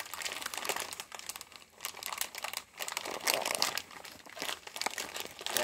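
A crinkly plastic snack wrapper being struggled with and pulled at up close, producing continuous crackling and crumpling bursts with brief pauses between tugs.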